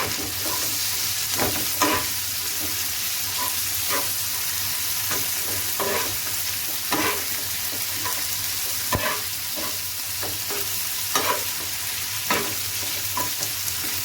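Spicy tawa keema frying over medium-low flame while a spoon scrapes and stirs it, a steady close sizzle broken by regular clinks and scrapes of the utensil on the pan, with no talking.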